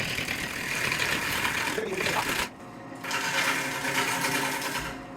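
An English walnut vase spins on a wood lathe, a steady close whirring drone with a short dip in the middle before the turning resumes, no voices over it.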